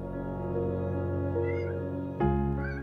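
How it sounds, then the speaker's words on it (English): A pet cat meows in a drawn-out, wavering call indoors, then gives a second, louder meow after a brief thump, with no one talking. "That's my kitty cat."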